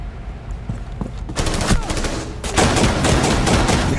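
Rapid shotgun and gunfire bursts in Rainbow Six Siege, a cluster of loud sharp shots followed by another heavy volley, close and dense with overlapping reports.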